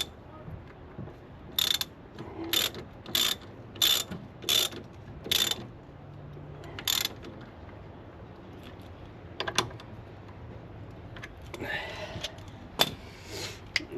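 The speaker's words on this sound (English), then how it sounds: "Take our torque wrench to 30, 28, 30." A torque wrench ratchets in short bursts of clicking, about eight distinct rounds spaced roughly evenly, then looser, irregular clicks near the end, close up during front suspension work on a 1998 Ford XH Falcon.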